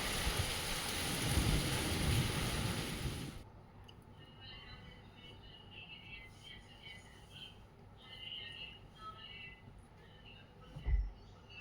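Heavy rain pours loudly and evenly for the first few seconds, then gives way abruptly to a much quieter outdoor ambience with faint scattered sounds.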